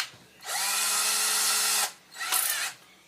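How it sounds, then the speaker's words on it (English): Cordless electric drill with a 1/8 inch bit boring holes in a plastic Stormtrooper helmet, two close whining bursts, a long one then a shorter one, loud and alone. "I go ahead and drill my holes for my mic tips"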